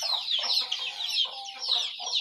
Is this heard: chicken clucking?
yes